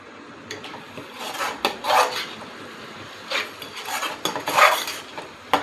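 A spoon scraping and stirring a thick paneer curry spice mixture of salt, roasted cumin powder and coriander powder in a pan, with repeated close rasping strokes in irregular bursts and no talking.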